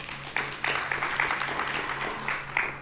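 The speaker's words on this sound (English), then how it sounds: "we need to give them a round of applause" An audience at an aquaculture development event applauds with a moderate, steady round of clapping, individual claps sharp against the room and sustained evenly for a few seconds.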